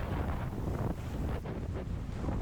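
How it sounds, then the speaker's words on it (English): Strong downstream wind gusting over the Middle Fork Salmon River in Idaho, roaring steadily and buffeting close to the microphone, with no voices. "These strong winds today were quite unusual in that they were downstream winds."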